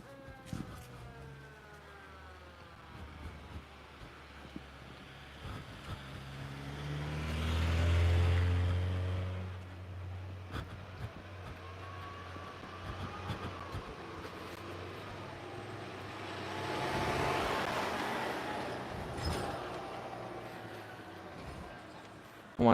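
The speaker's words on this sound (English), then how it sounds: "The fire truck is coming here." A fire truck passes along a road, its siren wailing in sliding, falling tones while engine and road noise swell loudly twice and then fade, heard from the roadside.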